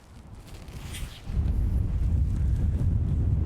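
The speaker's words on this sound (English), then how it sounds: "Wind is really getting up now. It's really blowing." Strong wind blows through a park on an autumn walk, a loud low rumbling buffet against the microphone that swells and then roars steadily.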